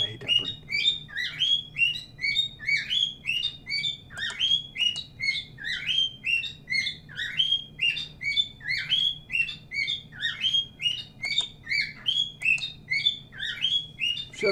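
Shrill, fast chirps from a nearby bird keep up a relentless rhythm, the clusters of tweets pulsing evenly from start to finish with no talk over them.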